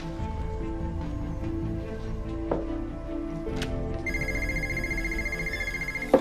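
A telephone rings indoors with repeated electronic trills over a quiet room, a brief clatter mid-way, and a steady high tone joining in later.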